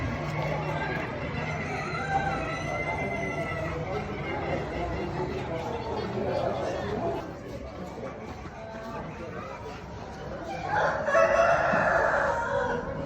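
Show chickens with a rooster crowing among clucking fowl, under steady talk from a nearby voice, with a louder burst of crowing near the end.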